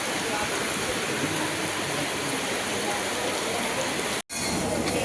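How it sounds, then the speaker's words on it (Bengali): Dense, steady hiss of heavy rain falling on surfaces nearby, constant and loud, with a brief cut-out near the end. "এখন আবার বৃষ্টি হচ্ছে।"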